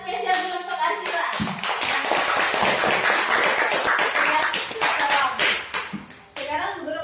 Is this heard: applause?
yes